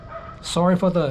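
Dogs bark in the background, a couple of short, clear barks and yips heard alongside someone talking up close.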